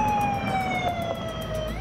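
Ambulance siren wails continuously at a prison riot scene, a steady falling tone heard at moderate distance over background traffic noise.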